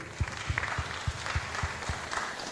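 Modest applause at a savings cooperative's annual general meeting, a few rhythmic claps standing out from a soft, distant clatter of hands in a hall.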